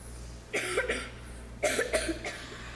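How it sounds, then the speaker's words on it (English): Two bursts of harsh coughing, each a quick cluster of hacks, close by over a low steady hum. "You probably just been coughing so hard you broke a blood vessel"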